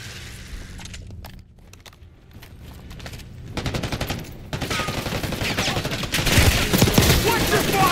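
Rapid automatic gunfire and scattered shots ring out in the video game Warzone, sparse at first, then building into loud sustained bursts.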